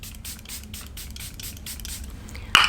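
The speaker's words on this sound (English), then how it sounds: "So my last step is to set it with a setting spray." A steady rhythmic series of short fine mist sprays of makeup setting spray, about eight quick bursts in a row, close by, ending with a sharper click.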